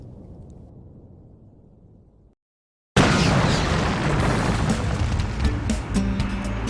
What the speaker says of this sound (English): Aren't the explosions on this demolition site amazing?